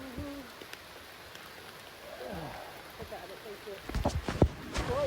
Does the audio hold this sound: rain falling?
yes